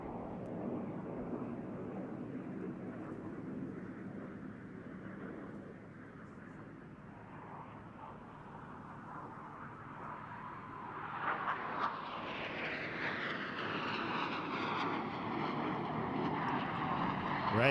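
Aerobatic display jets from the Red Arrows at the Bournemouth Air Festival pull hard into a turn at full power, a broad sustained roar that swells and rises in pitch toward the end, with no talk over it.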